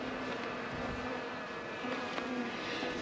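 Honeybees swarm around a stump hive after brood frames are added, a constant close droning buzz of many insects holding steady throughout with no talking.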